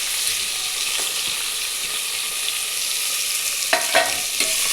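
Onions with curry leaves, ginger-garlic paste, tomato and potato fry and are stirred in a pan, giving a steady loud sizzle throughout with a few scraping stirs near the end.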